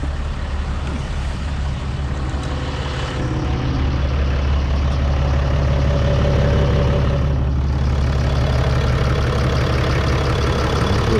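A 2014 Dodge Ram 3500 with a 6.7 Cummins diesel idles steadily, a deep, continuous low rumble that stays loud and even from start to finish with no talking over it.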